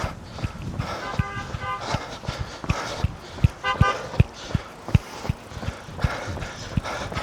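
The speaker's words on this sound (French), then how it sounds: "Oh, ça klaxonne" A car horn toots a few short times in a street, moderately loud, mixed with footsteps and light traffic noise while people talk nearby.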